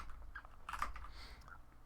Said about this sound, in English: I'm using my keyboard.